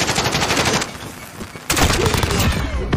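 Rapid automatic gunfire in a Call of Duty Search and Destroy match, dense bursts of shots that pause briefly and then resume loudly.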